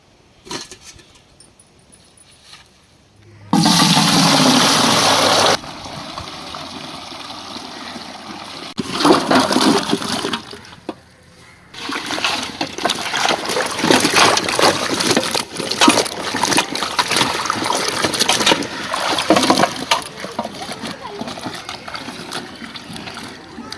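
Fresh palm sprouts dug from a palm tuber mound are washed by hand in water, with loud splashing and sloshing at first, then steady swishing and dribbling under light background sound.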